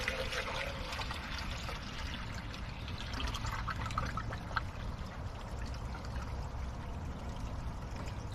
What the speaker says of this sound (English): And then add water to the pump to help it prime.